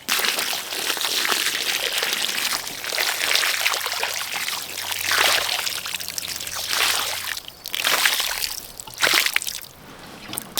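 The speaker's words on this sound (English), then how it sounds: "So I'm going to do my best now to put it out on this rock, douse it completely with water" Water is poured onto a campfire on a rock to douse it completely, giving close, loud splashing and trickling with hissing surges that rise and fall over several seconds.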